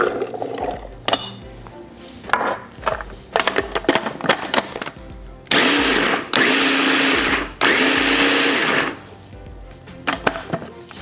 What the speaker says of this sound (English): we're just going to put them in the food processor just to pulse them up a little bit